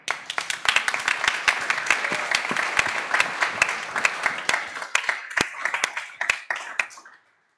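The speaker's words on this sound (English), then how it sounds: "Big applause, please." An audience applauds at a student challenge pitch and closing event, with dense, sustained clapping that carries on steadily for several seconds before cutting off abruptly.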